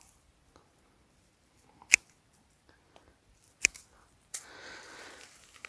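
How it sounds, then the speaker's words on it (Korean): Pruning shears snip pine tree shoots in a quiet outdoor setting. Two crisp, isolated clicks sound about two seconds apart, followed by a brief rustle of the branches. "이거를 한 4개 4개에서 5개 정도만 남겨놓고 다 잘라줍니다"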